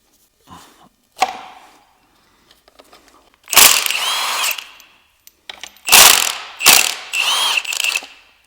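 A ratchet clicks in several bursts as it removes timing component bolts from a Subaru STI engine, with short quiet gaps between loud, close, rapid pawl runs and a few light metallic taps.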